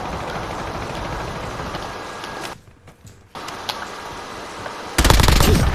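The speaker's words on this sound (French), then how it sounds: "On me tire dessus." Sustained automatic gunfire in the video game Warzone rattles continuously, drops out briefly midway, then returns with a louder, denser burst near the end.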